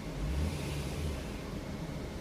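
A Mercedes R129 engine idles at around 650 rpm, giving a steady low rumble that holds level with no speech.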